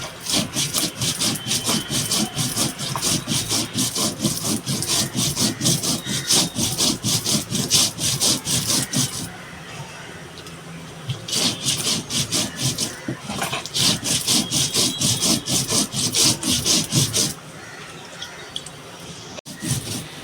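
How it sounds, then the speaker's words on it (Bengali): Spices such as mustard and poppy seeds are ground to a fine paste on a stone, giving rhythmic rasping back-and-forth strokes in steady bursts, pausing twice briefly before resuming, close and loud. "মশলাটা একদম মিহি করে বেটে নেব"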